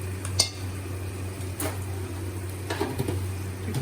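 Minced meat and peas are stirred in a pan, giving faint, sparse scrapes and light metallic clinks of a spoon against the pan over a steady low hum, with no talking.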